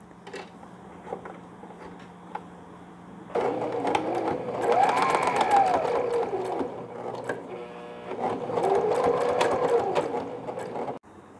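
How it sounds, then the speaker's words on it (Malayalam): Sewing machine joining the sides of a stretchable baby knee cap, fast rattling stitching in two long bursts separated by a short pause, close and clear, with quiet handling sounds before it starts. "ഇനി ഇത് 2 സൈഡും കൂടിയിട്ട് ചേർത്തടിക്കണം"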